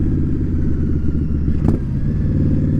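An Indian Scout Bobber motorcycle being ridden, its engine throbbing with a loud, steady low pulse close by, with one brief higher clatter partway through.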